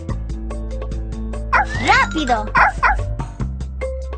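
Cartoon puppies yip and bark in a Dora the Explorer video game, a cluster of high excited barks in the middle over steady game music, with a voice speaking briefly.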